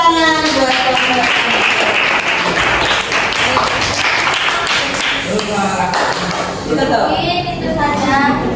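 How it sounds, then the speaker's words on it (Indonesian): A classroom group claps together for a presenting group, a steady burst of hands lasting several seconds with children's voices and chatter mixed in throughout. "Tepuk tangan buat kelompok"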